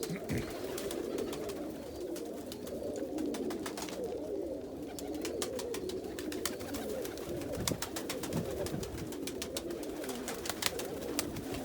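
Pigeons, including Indian fantails, cooing repeatedly in soft, low murmurs in a loft, several birds overlapping, with faint rustling and clicks in a reverberant space.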